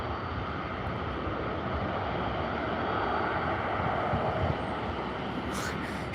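A Canadian North Boeing 737 airliner taxiing at Calgary airport gives off a steady, broad roaring rumble with wind-like noise, unchanging throughout and heard from some distance.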